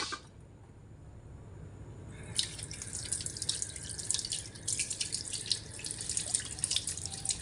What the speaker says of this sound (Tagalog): Hugasan natin yung dahon ng sibuyas.